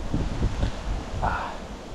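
Gusty wind at an outdoor carp-fishing spot buffets the microphone in rough, loud rushes, with rustling that eases off toward the end.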